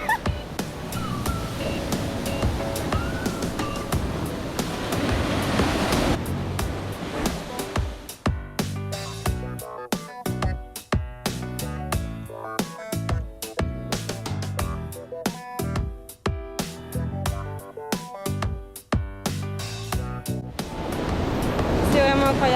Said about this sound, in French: C'est un truc de ouf les vagues.